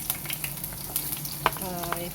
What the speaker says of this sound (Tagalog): Prito-prito ko lang yung mga gulay.